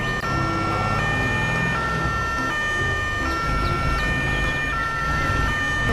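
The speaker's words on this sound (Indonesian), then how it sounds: "Wih, ada mobil ambulan teman-teman." A toy ambulance plays a loud electronic siren, a steady wailing tone that shifts pitch in regular steps, heard alone and close.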